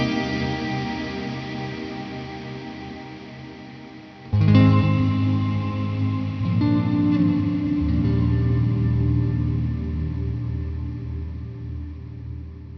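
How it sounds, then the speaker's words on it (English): An ALABS reverb pedal with added noise in its tail produces a washy, sustained wall of effected sound that swells and rolls like crashing waves, shifting in density and holding steady and loud throughout. "they added a little bit of, almost a bit of noise to the reverb sound, a bit of audio noise to make it sound like crashing, rolling waves"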